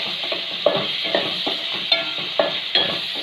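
Ingredients being sautéed in a pan with a light pinch of salt, a steady sizzle broken by repeated scraping stir strokes, close and fairly loud, with no talking.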